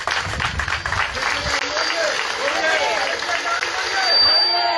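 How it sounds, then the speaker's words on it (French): Audience applause at a public gathering, loud dense clapping mixed with crowd cheering and babble, sustained throughout. "Je voudrais qu'on applaudisse pour ça."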